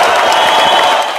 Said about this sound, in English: So that's some applause for Darrin